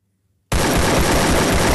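A long-range gun fires body shots in a solo custom video game match, with loud, dense gunfire starting abruptly after a brief silence and continuing without pause.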